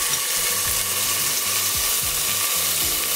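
Minced garlic and onions sizzle steadily in a hot pan, with a dense hiss of frying broken by repeated scraping, clicking stirs.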